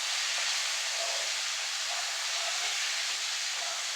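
Raw jackfruit (echor) pieces hitting hot oil in a pan, giving a steady bright hiss of sizzling that holds evenly throughout, close and moderately loud.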